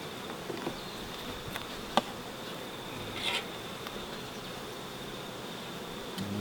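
Honey bees buzzing around beehives outdoors, a steady low drone of many insects with a few louder passes close by and faint clicks, no talking.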